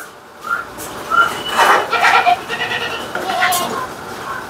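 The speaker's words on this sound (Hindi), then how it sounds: "और ये एक बकरी है और उसके साथ की ये एक बकरी, दोनों बहने हैं।" Goats on a small farm bleat in a few short, wavering calls spread across the moment, fairly close and clear, with faint voices murmuring in the background.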